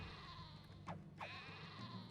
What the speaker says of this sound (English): Javelineers are attacking Rome's true enemy, sheep.